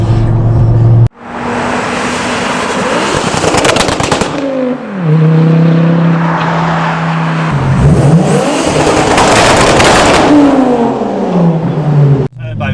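Tuned 530 BHP Ford Focus ST engine roaring loud and near, revving hard with crackling pops and bangs, cutting out briefly, then climbing again through gears as it accelerates away.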